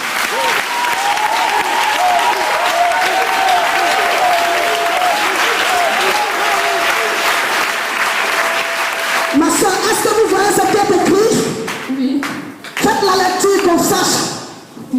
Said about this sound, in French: Acclame Jésus-Christ de Nazareth